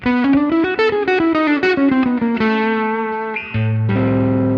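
A quick jazz fusion electric guitar 2-5-1 lick with distortion and chorus effects, fast notes running up and down before settling on sustained, shimmering chords.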